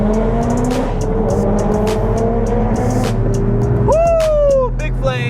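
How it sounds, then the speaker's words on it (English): A Volkswagen GTI accelerates hard at a busy car meet, its engine note rising in steady revving tones over a loud, low rumble of idling cars, with a sharp squealing sweep near the end and a crowd talking throughout. "Oh shit, that GTI is fast."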